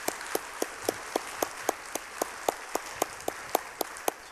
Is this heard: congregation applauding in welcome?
yes